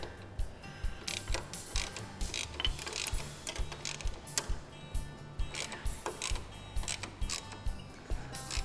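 A ratchet tightens the handle bracket on a Polaris RZR Pro R flip windshield, giving repeated close, crisp clicking strokes in an even rhythm over a low background hum.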